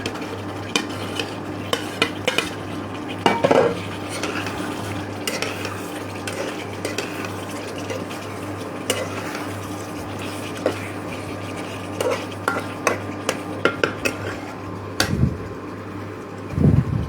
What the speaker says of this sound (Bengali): এবার আমি পনিরের যেগুলো ফ্রাই করে রেখেছিলাম সেগুলো আমি দিয়ে দিচ্ছি।